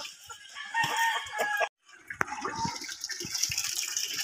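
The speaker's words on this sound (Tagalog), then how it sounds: "Galing tayo pakain ng heritage chicken, manok." Heritage chickens cluck and squawk busily while being fed, mixed with splashing, water-like noises. Sharp bursts and a brief pause break up the lively, close-up commotion.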